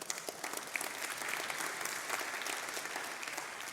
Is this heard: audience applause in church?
yes